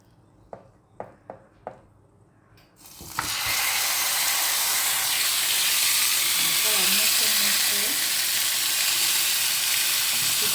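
Spare ribs laid in a hot pan: a few sharp knocks and clatters, then a sudden, loud, sustained sizzle that stays strong and close, with brief faint voice-like sounds partway through.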